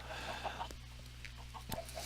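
Minecraft chickens clucking nearby, several soft, short clucks spaced irregularly over a faint steady background hum, with no talking.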